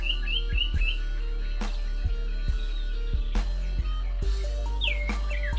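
Caged sirtu bird singing a rapid run of bright, chirping phrases and quick warbles, close and clear over a steady low hum, with a few sharp knocks in between.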